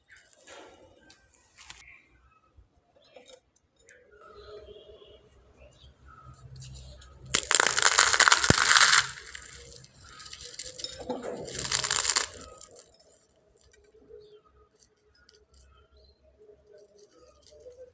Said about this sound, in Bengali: একইভাবে আমি আরেকটা ভেঙে দেখিয়ে দিচ্ছি।